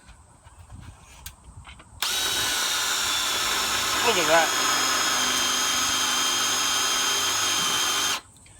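Power drill with a freshly sharpened half-inch bit cutting into thick steel at high speed, a steady loud whine with grinding texture starting abruptly and running about six seconds before cutting off, with brief speech before it.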